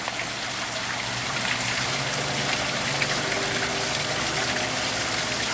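Water from a garden water feature pours and splashes steadily in a continuous, even rush, close by, with no voices and no breaks.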